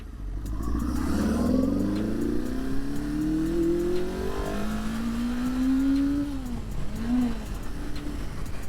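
A 1976 Honda CB500 Four motorcycle engine revs hard uphill and climbs steadily in pitch as it accelerates through the gears, loud and close, dipping briefly between shifts.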